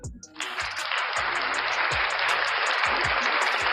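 Applause from a live show audience rises quickly and holds as a dense, steady wash of clapping for a few seconds, with a low rhythmic thump recurring underneath.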